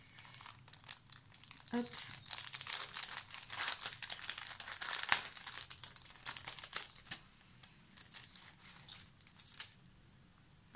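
Paper die-cuts are pulled from a crinkly package, bringing close, irregular bursts of crackling and rustling plastic, with a brief spoken word partway through.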